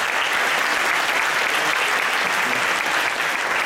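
Steady, dense applause from an audience at a magic show, a continuous wash of many hands clapping at even loudness throughout, with no talk over it.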